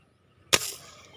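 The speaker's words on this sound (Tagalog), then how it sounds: "Ayan mga ka-fishing may putukan ulit tayo" A single sharp pop like a gunshot or firecracker cracks out at a distance, followed by a short fading echo against near silence.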